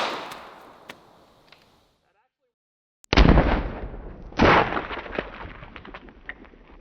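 A 9mm Glock bullpup pistol fires into a watermelon: after a quiet stretch, one sharp, loud shot bursts out, followed by a second strong crack and a scatter of smaller pops and thuds fading out.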